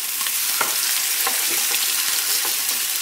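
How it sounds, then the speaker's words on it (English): Steaks sear in a hot pan with a steady, close, loud sizzle that carries on without a break, with no voices. "Sizzle, that's good."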